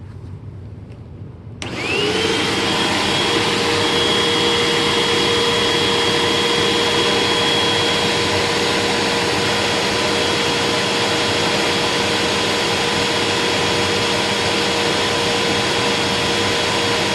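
A Hoover Rewind UH71013 upright vacuum cleaner switches on after a short quiet moment and then runs loud and steady with a constant whine, drawing air through the end of its hose.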